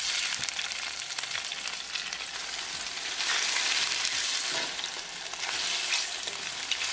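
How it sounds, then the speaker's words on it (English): Tofu stir-frying in olive oil in a frying pan on a gas stove, giving a loud, steady hiss and crackle of sizzling that swells and eases as the pieces are moved, with no talking. "Now we're going to stir fry the tofu."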